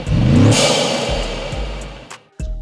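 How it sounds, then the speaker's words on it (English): A BMW G90 M5 engine revs hard with a rushing, throaty intake roar that slowly fades, then a brief clatter and a renewed rev at the end. "you get that awesome intake noise that everyone desires"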